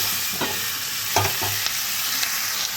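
Vegetables being stirred in a pan over a constant frying hiss, with a few soft scrapes and taps of the utensil.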